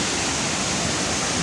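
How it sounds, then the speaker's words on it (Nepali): A waterfall and mountain streams rush near Dudheko Raha outside Pokhara, a loud, dense and unbroken roar of falling water heard from close range. "यहाँ चाहिँ माथितिरबाट यस्तो खोलाहरू आउँदो रहेछ"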